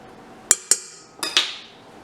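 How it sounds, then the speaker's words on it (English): Baked potato flesh being scooped into a KitchenAid mixer bowl: four sharp clinks and taps of a utensil against the bowl, close and clear, in two pairs with a short gap between them. "I'm just scooping out the flesh, and I'm going to put that in my KitchenAid bowl"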